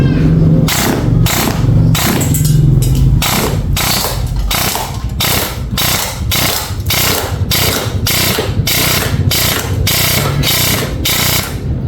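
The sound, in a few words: M4A1 airsoft rifle with T238 brushless motor firing full auto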